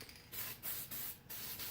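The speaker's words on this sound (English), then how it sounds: "Here goes nothing on the spray painting of this copper gasket sealer stuff." Copper gasket sealer sprays from an aerosol can in several short, steady hissing bursts with brief pauses between them. The sound is close and moderately quiet, during work on a 1925 Ford Model T head and manifold gaskets.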